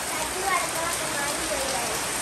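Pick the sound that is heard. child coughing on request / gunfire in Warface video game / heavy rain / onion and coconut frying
heavy rain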